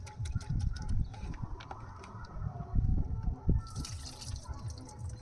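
Water drains off a handful of soaked flattened rice (chira), with close, wet dribbling, splashing and dripping in uneven bursts, quieter moments between them and a faint bird call in the background.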